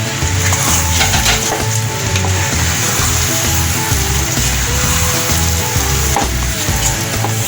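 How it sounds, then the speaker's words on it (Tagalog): Ube biko, purple yam sticky rice, being stirred in a pan, with a continuous soft sizzle and repeated scraping and thick sticky stirring strokes, close and steady throughout, with no talking. "Hahaluin ko lang po siya para magsama-sama yung kulay."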